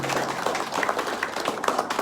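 A crowd at a Navajo Nation presidential address claps in brief, scattered applause, individual claps audible in an uneven patter.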